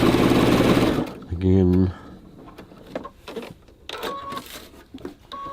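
A sewing machine stitches a pocket onto a bag lining in a brief loud whirring burst, followed by a second short run of stitches, then quieter handling clicks while someone talks.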